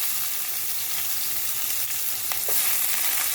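Onions sizzling in a pan, a close, steady hiss that stays even throughout with a couple of brief stirring taps near the end.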